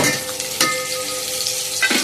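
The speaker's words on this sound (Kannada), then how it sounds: "ಒಗ್ಗರಣೆಗೆ ಶುಂಠಿ, ಬೆಳ್ಳುಳ್ಳಿ, ಹಾಗೆಯೇ ಜೀರಿಗೆ, ಮೆಣಸು ಕುಟ್ಟಿಬಿಟ್ಟು ಇಟ್ಟಿದ್ದೀನಿ." Tempering of ginger, garlic, cumin, pepper and curry leaves sizzles steadily in hot oil, with two sharp bursts of sputtering and a stirring clink close by and no talk.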